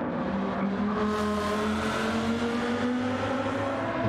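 A Lamborghini race car in a sim racing game drones steadily through a tunnel under hard braking, its engine tone holding loud and continuous with shifting pitch throughout.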